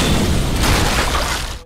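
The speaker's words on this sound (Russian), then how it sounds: "Взрыв сносит с ног нескольких монстров." A burning truck in an anime is driven into a titan and explodes with a loud, sustained, full-bodied blast that rumbles for over a second before cutting off.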